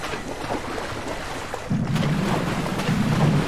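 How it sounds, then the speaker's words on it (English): Water rushing and gurgling into a submarine's hull in the IronWolf VR game, a steady wash that swells louder midway and keeps flowing with no speech over it. "I can hear this water."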